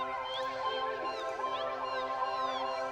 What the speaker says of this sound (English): only to be replaced with the faint mewing of kittens